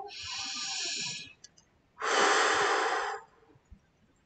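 A deep breath during a guided EFT tapping session: a long, airy inhale, a short pause, then an equally long exhale, close and clear with no talking over it.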